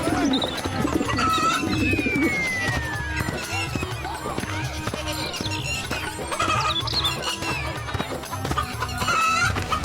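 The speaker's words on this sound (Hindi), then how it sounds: "तू ये इतनी बड़ी बड़ी मुर्गी लेकर कहाँ घूम रहा है?" Hens clucking and squawking in a busy mix of farmyard noise, with people talking over it throughout.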